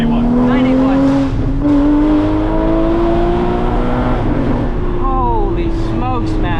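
A Porsche Cayman GT4 981 with a 3.8-litre flat-six engine pulls hard, its near, loud note climbing steadily in pitch, then settling before sharp bursts of revving near the end.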